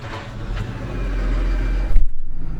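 A New Holland T7.300 tractor engine rumbles loudly and builds, then catches into a throbbing, rhythmic idle, heard up close.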